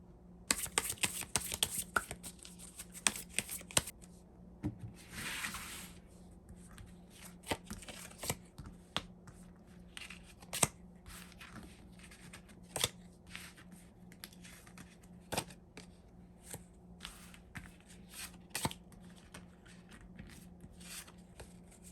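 Tarot cards shuffled and drawn for a relationship reading, with a burst of quick riffling at the start, then scattered crisp card snaps and taps at irregular intervals over a low steady hum, close and fairly quiet, no talking.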